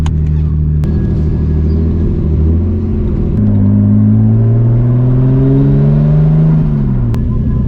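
Subaru 2.5RS with a swapped-in WRX engine being driven, heard from inside as a loud, steady engine drone with low rumble and rising and falling revs through gear changes.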